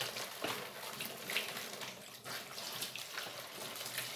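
A mixture of glycerin and sugar water being poured while making liquid soap, a continuous close splashing trickle with small drips and gurgles.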